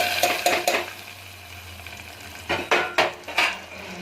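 Metal spoon clinks and scrapes against a cooking pot while ingredients are stirred together in a home kitchen at lunchtime. The sound comes in two bursts of sharp taps, with a low hum between them.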